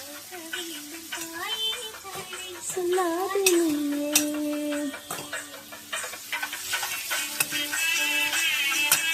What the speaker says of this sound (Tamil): எல்லாம் மிக்ஸ் பண்ணி நல்லா